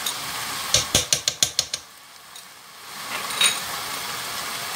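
Spoon scraping and clinking against a pot while stirring pepper paste with garlic, a quick run of about seven sharp metallic taps in a row, then a quieter soft rustle with no talk.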